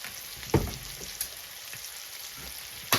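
Fried rice cooking in a pan with garlic powder, a soft, steady sizzle with a few louder crackles and spatters close by, with no voices.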